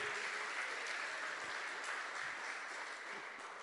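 A church congregation applauds together, a dense, steady wash of clapping hands filling the room at moderate volume, tapering off slightly toward the end.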